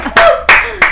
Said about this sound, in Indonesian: Tepuk tangan untuk fansnya Pak Wisnu Tama.